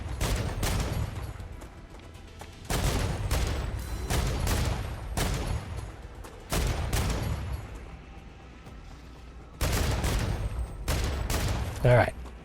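Rapid gunfire from enemies strafing in the sci-fi video game StarRupture, heard as loud repeated bursts of shots with broad booming impacts, coming in several separate volleys with short quieter gaps between them.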